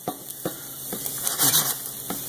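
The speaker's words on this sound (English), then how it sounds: "Now that the garlic is starting to brown" Garlic browns in a pan for shrimp vodka pasta, giving a soft, steady sizzle with a few light scraping stirs at regular intervals, close and alone.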